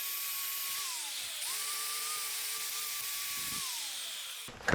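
A power sander grinds metal before welding on a small 80cc dirt bike, its whine holding a steady pitch, then dipping and recovering as pressure changes, close and loud, ending in a brief rough clatter.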